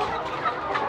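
Laying hens at the point of lay, in a flock of about 212 birds, cluck steadily in a dense, continuous chorus that fills the whole second without any talking.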